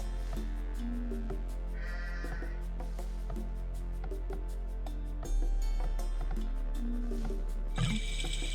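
Sheep bleat in the video game Age of Empires II as villagers herd them, several short bleats over looping game music with ticking clicks, with no one speaking.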